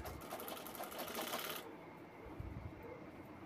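A sewing machine stitches a piping seam on a handmade handbag, a quick rattling run of needle strokes lasting under two seconds before stopping, heard fairly close.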